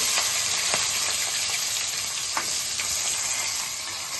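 Green chillies and chopped onions fry in oil in a pan for egg biryani, giving a loud, continuous close sizzle with a few soft stirring scrapes and no voices.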